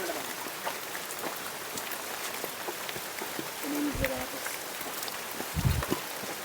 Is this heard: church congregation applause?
no